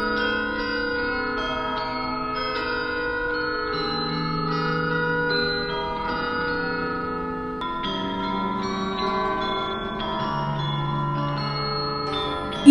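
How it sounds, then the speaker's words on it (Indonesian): Church bells ring steadily across a hushed Odessa, with overlapping tolls sustaining and layering into a continuous, resonant wash of pitched tones and no voices. "Kota Odessa yang hening dipecahkan oleh suara lonceng gereja"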